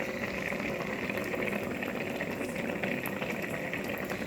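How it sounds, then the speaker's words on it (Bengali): Curry cooks inside a pressure cooker with a steady, close bubbling and gurgling simmer that runs evenly throughout. "আমি কুকারের মধ্যে আমার তরকারি বসিয়ে দিয়েছি দেখো"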